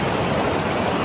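The Sooke River near Sooke, BC, on Vancouver Island, flows toward the Pacific in a steady, dense rush of water, close and loud with no voices.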